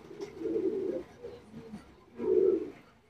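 Fancy coloured pigeons of the khal variety in a breeding setup coo in two distinct rolling bursts, one long and one shorter after a pause, close by with no talk over them.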